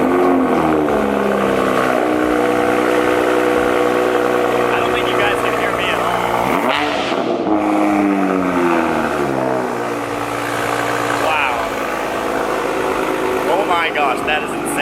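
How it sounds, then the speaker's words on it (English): A Toyota Supra A90 with a straight pipe, AW exhaust and downpipe idles loudly and revs with a deep, raspy drone and rising and falling throttle blips close by, while people talk over it. "Let's hear it fire up. Straight pipe with the AW exhaust and the A90 downpipe."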